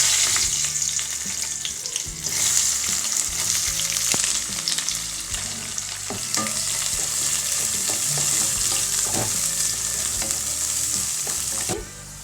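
Steady, loud sizzling of curry leaves frying in hot oil with popped mustard seeds for sambar, with crackles and occasional stirring clinks throughout; no one speaks.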